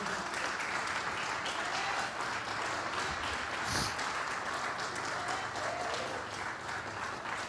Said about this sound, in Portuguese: Aplauda Jesus, por favor.